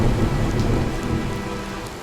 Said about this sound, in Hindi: उस साल ऐसी बारिश हुई कि रघु की पूरी फसल बर्बाद हो गई